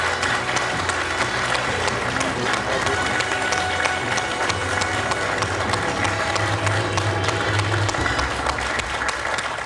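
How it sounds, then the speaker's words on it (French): Applause from the studio audience on a French TV quiz show: dense, sustained clapping from a crowd that stays loud and steady throughout, with a low murmur underneath. "Mathieu vient d'applaudir Bernard"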